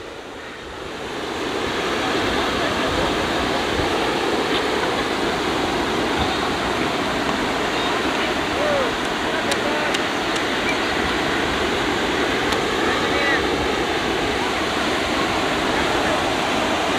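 Calm sea waves wash steadily onto a beach in North Goa, a continuous broadband surf rush that fades in over the first two seconds and then holds loud and even, with no talking.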